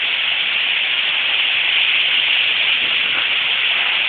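Heavy pouring rain during a spring storm in North Carolina, a dense unbroken hiss of water drumming on surfaces nearby, loud and steady with no speech.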